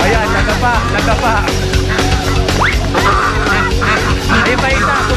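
A dense, noisy flock of geese honks continuously amid loud, busy background commotion, with overlapping calls throughout.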